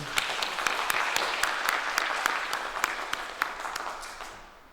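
Church congregation giving a round of applause, with sharp individual claps standing out from the steady clapping before it thins and fades away at the end.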